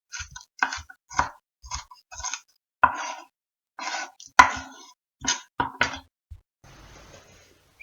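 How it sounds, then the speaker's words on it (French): Two onions are sliced with a knife on a board, crisp irregular chops coming in quick bursts and short pauses, close and fairly clear, with no talking. "Je vais couper également 2 oignons."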